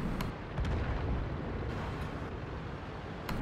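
Artillery fire in World of Tanks on the El Halluf map rumbles as deep, heavy booms that roll continuously, with a few sharp cracks near the start and end and no talk.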